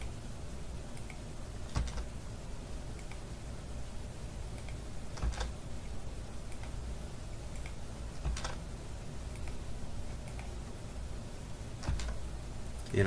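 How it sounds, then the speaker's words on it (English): A computer keyboard's spacebar clicks a handful of times at irregular intervals, crisp taps over a faint room hum with no talking. "I'm just pressing my spacebar to start that fillet command again"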